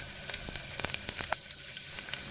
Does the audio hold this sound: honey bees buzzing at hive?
no